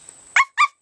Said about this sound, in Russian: Да, лай, такая прям вообще активная.